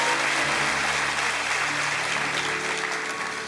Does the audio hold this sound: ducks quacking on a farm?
no